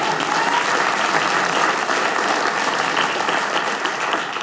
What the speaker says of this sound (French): peut l'applaudir, bravo, c'est bien